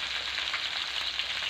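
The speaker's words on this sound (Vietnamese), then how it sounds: "Đây, mình chiên thì mình cho một ít dầu ăn thôi." Red tilapia fish frying in a small amount of cooking oil, a steady close hiss and crackle that continues unbroken with no talking.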